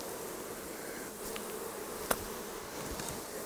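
Honey bees buzzing at a wild hive inside the fuel tank of an old abandoned car, a steady soft drone of many insects with one brief sharp click midway.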